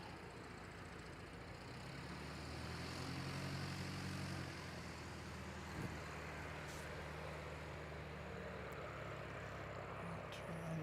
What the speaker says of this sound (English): Another incoming aircraft.